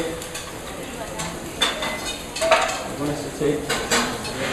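Green and yellow zucchini garnish sautéing in butter in a pan, with a soft sizzle under scattered clinks and scrapes of utensils against the pan. A voice murmurs faintly in the background.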